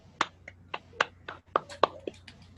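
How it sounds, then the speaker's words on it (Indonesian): A small group claps sparsely for a woman during a business-owner talk show: about eight separate sharp claps spread unevenly over a couple of seconds, close and fairly dry, with no voices. "Kita aplaus dong."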